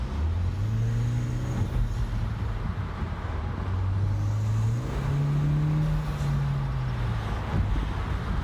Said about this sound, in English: A couple more little pulls here for you guys.